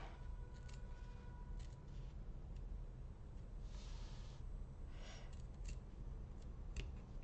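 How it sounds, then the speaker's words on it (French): Scissors snipping a small notch into fabric while sewing a tote bag, a few soft, close cuts over a steady background hiss. "Pour couper, le plus simple c'est de viser le milieu pour faire une petite encoche"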